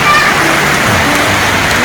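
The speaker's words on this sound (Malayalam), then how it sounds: "നല്ല മഴയുണ്ട്" Heavy rain pours in a loud, dense, continuous wash of noise, close and steady throughout.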